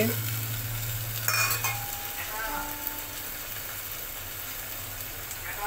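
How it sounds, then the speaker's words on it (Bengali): Onions fry in a pan with a steady sizzle, then a little water is added and the hiss shifts briefly before settling into continuous close-up frying with light stirring. "পেঁয়াজগুলোকে একটু ভাজি করে নিচ্ছি। এবার সামান্য জল দিয়ে দিচ্ছি।"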